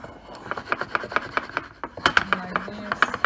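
Chocolate cake batter with orange peel being shaken in a baking pan, giving a quick series of light rhythmic taps and rattles against the pan, close and moderately loud.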